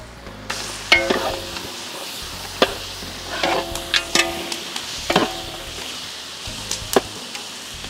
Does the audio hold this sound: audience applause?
no